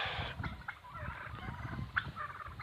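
Several turkeys gobble and chatter in a noisy barnyard, their calls overlapping in quick bursts against a steady background hum.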